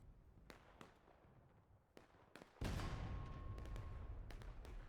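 Civil War reenactment artillery, a handful of sharp distant reports followed by one heavy cannon blast whose rumble lingers to the end.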